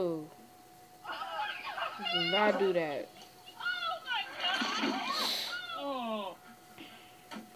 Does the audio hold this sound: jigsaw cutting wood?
no